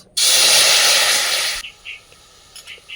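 Papaya juice hitting a hot wok on a stove, a loud sudden sizzling hiss that holds steady for over a second and then drops to soft scattered crackles.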